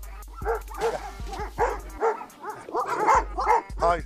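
A large dog makes close, irregular vocal sounds that mix whines, short yips and low grumbles. Someone speaks in short bursts over them.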